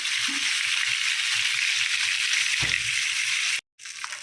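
Koi fish fry in hot oil with a constant close sizzle and crackle; a soft clatter comes midway and the sound briefly cuts out near the end before resuming.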